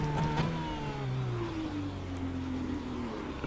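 An IndyCar racing at Circuit Gilles Villeneuve in the iRacing sim gives a faint engine whine whose pitch slides steadily downward as the car slows, with no talking.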